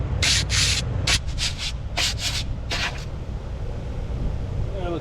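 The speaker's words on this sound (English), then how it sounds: "Same sanding I did in the rear," Repeated short bursts of abrasive sanding against a brake rotor on a 2015 Ford Fusion, several quick strokes in a row over a low background hum.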